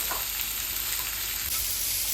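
Chopped potatoes sizzle steadily in a hot oiled pan, a continuous close frying hiss with a slight shift midway as they are stirred; no one speaks.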